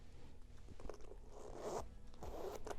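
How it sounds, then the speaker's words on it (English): Zipper on a Louis Vuitton Murakami bag being pulled open, a series of soft, close scratchy zipping strokes, quiet and without speech. "The zipper, like butter."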